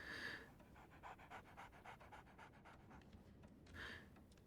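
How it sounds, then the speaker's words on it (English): A puppy pants loudly and rapidly in a steady run of quick breaths, close up, with no talk over it. "The puppy's panting is hilariously loud."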